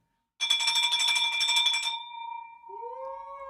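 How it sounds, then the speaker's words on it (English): A handheld bell is rung to celebrate a first deal, giving a bright, sustained clanging ring of rapid strikes that stops abruptly, leaving a lingering tone that slowly fades. "You are the official first person that gets this bell rung for."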